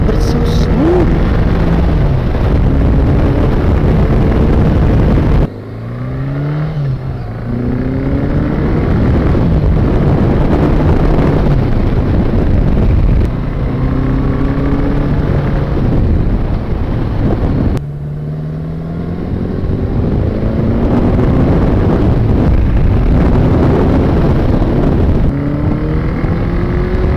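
A 1981 Honda Goldwing GL1100 motorcycle on a country road, its smooth engine droning and rising and falling in pitch as the throttle opens and gears shift, with heavy, steady wind rush throughout.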